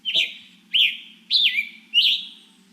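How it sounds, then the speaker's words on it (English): A male Scarlet Tanager sings four short, husky, burry phrases in a steady rhythm, clear and fairly close, with a faint low hum underneath. "that's the male Scarlet Tanager, and that's the song"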